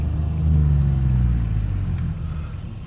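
A tuned Infiniti G37 accelerating hard through a loud exhaust gives a deep, steady engine rumble that swells early and stays close and strong for the whole stretch, with no talking.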